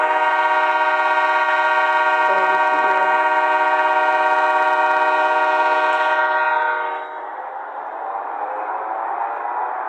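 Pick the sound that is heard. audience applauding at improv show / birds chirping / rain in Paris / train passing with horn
train passing with horn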